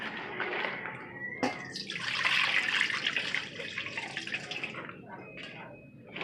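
Plantains are washed by hand in a basin of water, making continuous close sloshing and splashing with brief drips. A voice talks over the water sounds.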